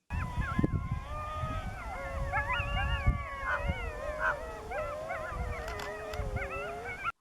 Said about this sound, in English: the wolf howls are pretty like distinct from each other